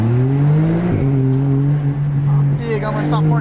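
A Porsche engine drones loudly and steadily, its pitch rising once as it accelerates and revs, while voices talk excitedly over it near the end.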